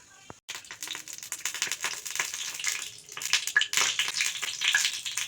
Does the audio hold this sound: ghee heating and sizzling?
yes